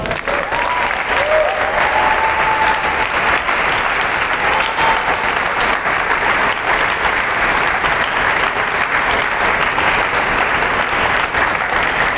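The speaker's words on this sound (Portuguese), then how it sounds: "Aplauda Jesus." A church congregation at a live worship service applauds with loud, sustained, dense clapping from a large crowd. The clapping continues steadily throughout, with faint voices mixed in.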